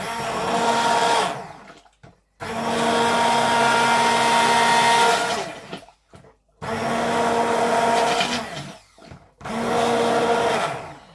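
A Ninja 15-in-1 pressure cooker blends green bean soup in three long loud motor runs, whirring steadily with short pauses between them and no talking.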